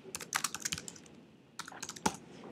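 Quick bursts of typing on a Mac computer keyboard as a folder name is entered, light close key clicks in two short runs with a brief pause between.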